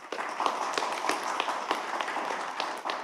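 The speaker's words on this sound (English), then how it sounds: "yeah, please applaud." Applause from an audience welcoming the Danish ambassador to Ukraine at a forum on Nordic support, a steady wash of clapping with a few louder individual claps standing out, fairly distant and moderate in level.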